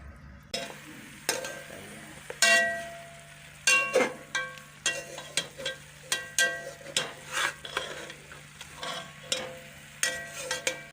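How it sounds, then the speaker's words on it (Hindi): Beef sizzles in hot oil while a utensil scrapes and stirs the pan in repeated, rhythmic strokes, close and fairly loud. "इसको ऑयल में अच्छी तरह से भून लेंगे 2 से 3 मिनट तक।"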